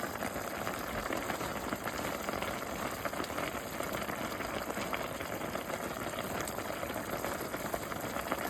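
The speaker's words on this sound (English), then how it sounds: "I'm going to add these beef bones." Frozen beef bones going into a pot of water on a stovetop, heard as a steady close watery wash and bubbling churn that holds even from start to finish, with no voices.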